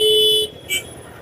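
A car horn blares in morning city traffic, one loud sustained honk that cuts off abruptly, followed by a second brief, fainter toot over a low street rumble.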